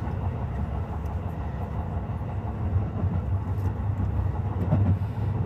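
Toyo Rapid Railway express train running toward Toyo-Katsutadai, heard from inside the car as a steady low rumble with faint rail clatter at moderate level, no speech.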